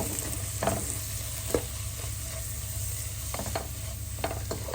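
Masala for a Kerala-style white tuna fish curry is mixed in a sizzling pan, a steady frying hiss with scattered scraping clicks of the spoon, close and continuous, with no talk.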